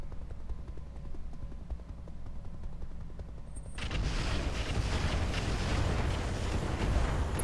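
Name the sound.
explosion in the video game Roguetech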